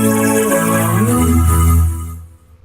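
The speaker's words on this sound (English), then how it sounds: "I'm going to load the plugin Vocodex into the vocoder track." Voice processed through the Vocodex vocoder plugin in FL Studio, giving a loud, robotic, harmonized tone with gliding chordal pitches that sustain and then fade out near the end.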